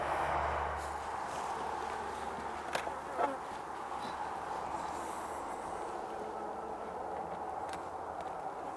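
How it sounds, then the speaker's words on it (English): Honey bees buzz steadily around a sugar syrup hive feeder after a shook swarm, a faint continuous hum with occasional nearer passes, no talk. "you can see the bees feeding along this edge, which is great."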